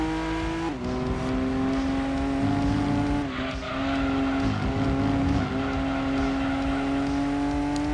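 A tiny 22-horsepower socialist-era car in Gran Turismo 2, its engine holding a steady buzzing drone with a brief dip and shift change, tires scrubbing faintly underneath, alone without talk.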